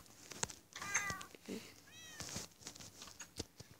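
Cats in the Minecraft video game give several short synthetic meows at irregular intervals. They sound moderately clear over soft clicking and game sounds, with no talk.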